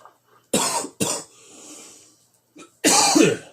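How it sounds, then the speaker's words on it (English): Several loud, close coughs into a microphone: two sharp bursts, a softer breathy rasp, a short cough, then a final harsh hacking cough, with no talking. "I didn't mean to cough into the mic there"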